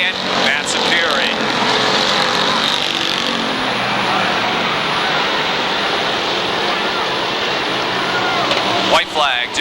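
Late model stock cars race around the Waterford Speedbowl in a 1991 feature, their engines a loud, continuous roar under a commentator's announcing voice.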